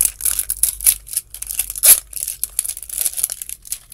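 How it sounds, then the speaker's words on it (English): Clear plastic packaging from a Zuru 5 Surprise Mini Brands Series 1 toy crinkles and tears in close, continuous bursts, with a sharper rip near the middle. "there's a little clear plastic, which also has a little zip thing"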